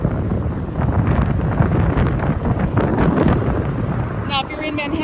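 Strong wind gusts buffet the microphone while walking across the Brooklyn Bridge in New York, a steady low roaring rumble running throughout with a brief shift near the end.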